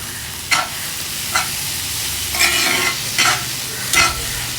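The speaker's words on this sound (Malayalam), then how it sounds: "നന്നായിട്ടൊന്ന് വഴറ്റിയെടുക്കുന്നുണ്ട്" Prawn biryani masala with chopped coriander and mint is sautéed in a pan over a steady sizzle, with five distinct scraping stirs of a spoon, loud and close.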